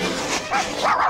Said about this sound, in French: T'es un bon chien.